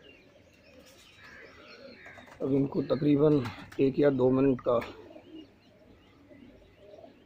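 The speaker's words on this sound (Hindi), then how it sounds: "ये सारे कबूतर लॉक से बाहर आ गए हैं" Soft cooing from flying pigeons just released from their loft blends with nearby chirps while someone talks over them at close range.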